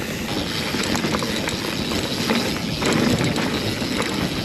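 A mountain bike rides fast along a cross-country race trail at Thunder Mountain, giving a steady, loud rush of tire and drivetrain noise with faint rattles throughout.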